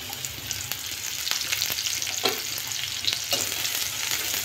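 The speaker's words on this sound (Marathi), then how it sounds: "आता आपलं तेल गरम झालंय, आपण त्यात कांदा टाकून घेणार आहोत" Chopped onion frying in hot oil for Schezwan fried rice, a steady close crackling sizzle with occasional stirring scrapes, no voices.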